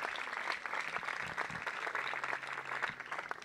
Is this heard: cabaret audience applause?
yes